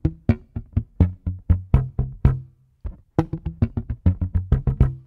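A bass guitar run is plucked with alternating index and middle fingers in quick, percussive notes, heard as a steady stream of short plucks with one brief pause midway, close and dry, with no talking.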